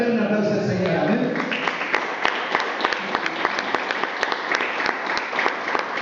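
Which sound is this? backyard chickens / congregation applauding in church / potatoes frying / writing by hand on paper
congregation applauding in church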